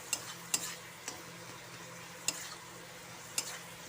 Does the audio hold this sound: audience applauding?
no